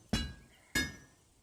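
A heated item is hammered into a sword in the video game A Township Tale, two sharp metallic clanks about half a second apart, each ringing briefly.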